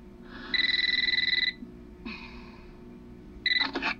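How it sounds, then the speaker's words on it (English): An electronic telephone in the Eternal Darkness video game rings in short warbling bursts, three rings with pauses between, fairly loud and alone. "You might want to answer the phone."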